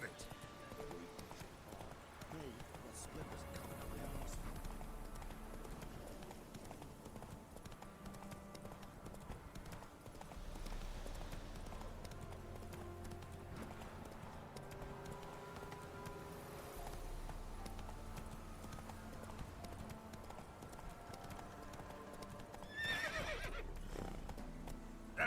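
Roach, the horse in The Witcher 3 video game, gallops with steady clip-clopping hooves and lets out whinnies, faint and under frequent talk and game background sound.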